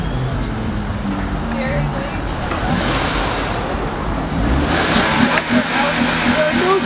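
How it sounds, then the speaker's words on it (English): A car engine revs in neutral outdoors, a steady loud roar that climbs in the second half, with wind buffeting the microphone and people talking underneath. "Are you in neutral revving it?"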